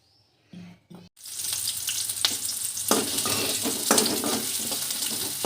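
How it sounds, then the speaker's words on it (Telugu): Upma sizzles steadily in a pan after a few soft clatters at the start, a dense continuous fry at close range with no talking. "అండ్ ఇక్కడ ఉప్మా కూడా ఫ్రై చేస్తాను."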